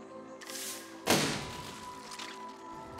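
Cannons blast a wall in the physics building game Besiege: one loud, sharp thudding crash with a short rumbling tail, set against a steady hum of in-game ambience and scattered fainter impacts.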